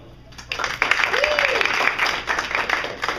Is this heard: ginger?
no